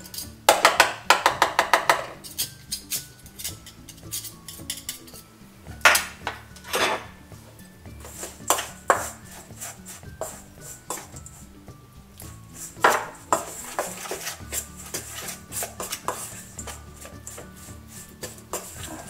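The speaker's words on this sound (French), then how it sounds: "Je vais prendre une cuillère parce que ça sera beaucoup plus pratique pour mélanger." A spoon stirs dog treat batter of liver, apple and banana in a bowl, making repeated clinking and scraping knocks in irregular clusters, fairly close and with no talk.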